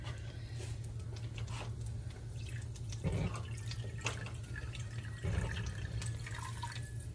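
Water being poured into sugar in a pot for French toast syrup, soft dripping and trickling splashes close by over a low steady hum, with a couple of brief louder clunks and no voices.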